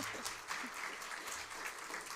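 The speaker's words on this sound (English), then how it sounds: "And a big round of applause for our fabulous guests." Breakfast-event audience clapping for panel guests, a steady even round of applause from a moderate crowd, heard from a distance and fairly faint, with no talk over it.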